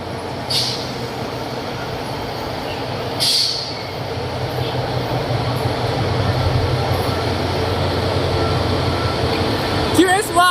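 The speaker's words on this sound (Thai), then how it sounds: "หมายเลข 5222นะฮะทำขบวนรถเร็ว139นะฮะไปอุบลราชธานีนะครับพ่วงตู้สัมภาระมาทั้งหมด สามตู้เลยนะครับ" Locomotive 5222 hauling rapid train 139 to Ubon Ratchathani through Don Mueang station, a loud continuous rumble of rolling wheels and carriages with brief metallic clanks and squeals, sustained throughout.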